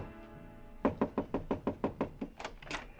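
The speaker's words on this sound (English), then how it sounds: "I stopped in front of room 300 and knocked." Knocks on a hotel room door as a radio drama effect: a brisk series of about ten sharp, close raps in steady rhythm, heard alone with no talk over them.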